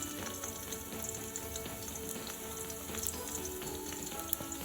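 Steady sizzling and crackling of garden egg stew frying in a pot, a continuous hiss with small pops, close and moderately loud, no talking.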